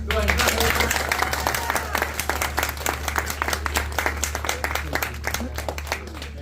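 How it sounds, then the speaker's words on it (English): An audience at a hypnosis show during a senior all-night party breaks into sustained applause, dense clapping at a steady level that thins slightly toward the end. "the audience is going to give you a huge round of applause"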